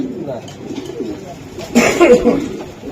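Black racer hen pigeon cooing in a loft among other racing pigeons, soft low coos building louder near the end, with some background chatter.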